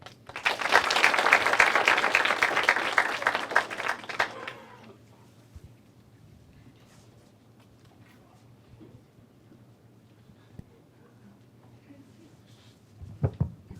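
Audience applause fills the room after youth presentations at a Junior Mayor's Association event, a dense burst of clapping lasting about four seconds before fading to quiet room tone, with a brief rustle near the end.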